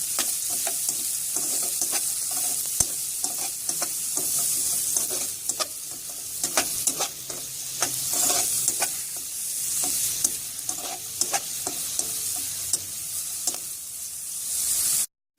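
Shredded cabbage and capsicum sizzle steadily in a hot pan for egg fried rice, with repeated clinks and scrapes of a spatula stirring throughout, loud and close.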